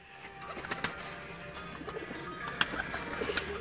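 Soft pigeon cooing in a busy, noisy setting, with a few sharp clicks and faint background chatter.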